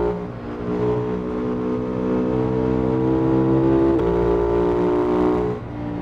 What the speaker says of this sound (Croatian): idem brzo, prilično s ovim motorom